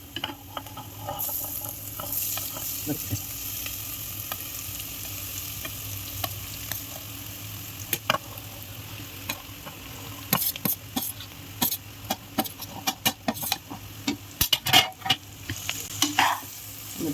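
Cooked jackfruit kuyari sautéing in a pan with garlic makes a low, steady sizzle, broken by a run of scraping, clattering strokes of a spatula that turns busier toward the end. No one speaks.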